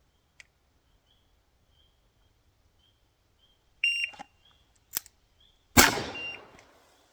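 A shot timer gives a short electronic beep to start a pistol drill, then loud handgun shots crack out, a couple of close sharp reports with a final heavier blast ringing off.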